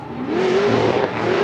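A drift car's engine at a 2018 Orlando competition roars loudly and steadily at high revs, close and without talk, and the pitch does not clearly falter in this short stretch.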